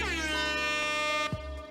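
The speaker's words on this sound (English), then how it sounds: "I'm giving myself air horns" A loud air horn sound effect blares steadily for over a second, its rich harmonic tone cut off abruptly and followed by a brief rumbling tail.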